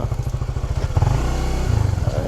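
A motorcycle engine putters close by with a rapid pulsing throb, briefly rising and then settling back into its chugging rhythm, riding through a narrow lane.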